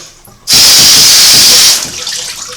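Close, steady hiss of water spraying onto the main body of a Singer 404 sewing machine during washing, beginning abruptly after a short pause, holding loud for over a second, then dropping to softer dripping and splashing.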